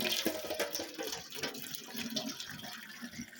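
Water runs steadily from a garden watering hose, making a continuous hissing, splashing rush that stays at an even level throughout, with no talking over it.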